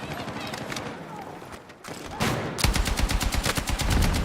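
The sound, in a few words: LMG machine gun firing in a video game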